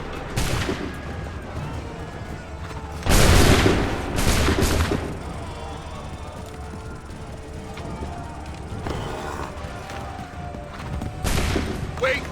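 Musket volleys at the Battle of Bunker Hill in Assassin's Creed 3: several loud ragged bursts of massed gunfire, with the biggest cracks clustered early and more scattered shots later, over constant battlefield din and shouted voices.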